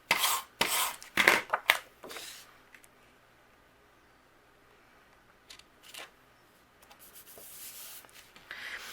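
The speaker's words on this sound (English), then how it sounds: "Using my tape runner," A tape runner tacks paper down onto an A2 card base with a few short, close scratchy strokes, followed by a long quiet pause and then faint rustling of paper.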